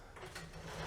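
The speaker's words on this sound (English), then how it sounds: "Safe, make sure I'm not leaving anything in there." Hotel room safe being opened, a short mechanical clicking and ratcheting of the lock and door hinge, close and fairly quiet, lasting under a second with no talking.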